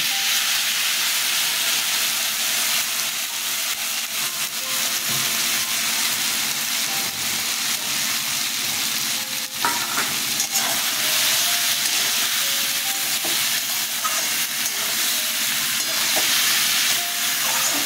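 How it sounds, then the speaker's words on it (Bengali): A paste of mustard, poppy seed and green chilli fries in a pan with drumsticks, a loud, steady hissing sizzle running unbroken from start to finish with faint stirring. "আমি এখন সর্ষে, পোস্ত আর লঙ্কা বাটাটা দিচ্ছি।"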